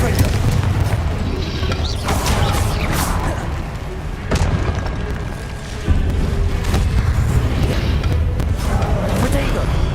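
Confringo explosive spell blasts in Hogwarts Legacy, heavy booming thuds repeating every couple of seconds among other spell effects, a voice speaking over the din.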